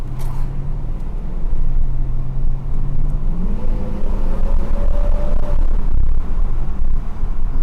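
Mercedes-Benz W126 500 SE V8 running on petrol or LPG, a steady close engine drone that climbs in pitch partway through as the revs build, then settles into a smooth hum.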